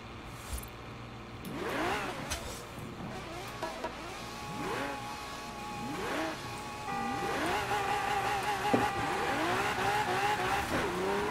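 Race cars in Forza Horizon 4 rev and accelerate through repeated gear shifts, their engine pitch climbing and dropping in a steady rhythm, with tire squeal and skidding on top and a constant loud engine drone throughout.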